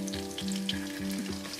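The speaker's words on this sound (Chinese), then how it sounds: "把生抽、酱油也给它炒香。" Scallion, ginger, dried chili and star anise sizzle loudly with soy sauce in hot pork fat in a wok, a close, continuous frying hiss broken by regular scraping stirs roughly every third of a second.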